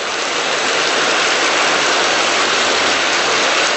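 Heavy rain pours onto a roof in a dense, unbroken hiss that stays loud and even throughout, with no voices.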